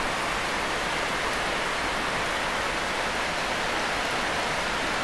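Steady, heavy rain pours down continuously at a house in Khon Kaen, Thailand, a dense hiss with no pauses or voices.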